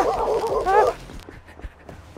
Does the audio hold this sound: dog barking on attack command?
yes